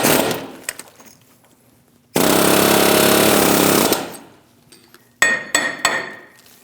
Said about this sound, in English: we're going to take an air hammer